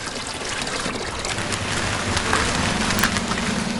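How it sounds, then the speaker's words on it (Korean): Mountain water pours steadily into a large container, a continuous splashing trickle close by, growing slightly fuller and louder toward the end. "채소 씻기가 끝나자 큰 통에 물을 가득 담는다."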